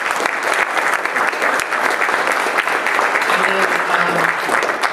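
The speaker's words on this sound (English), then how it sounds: "please give them a round of applause" Audience applause for two speakers at an Intel Android tools community talk: continuous, fairly loud clapping from a room of listeners, with faint murmuring voices underneath.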